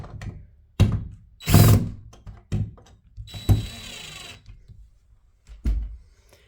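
A screw is tightened on a closet dummy handle with a series of separate clicks and thunks, spaced irregularly, close and fairly loud with quiet gaps between them.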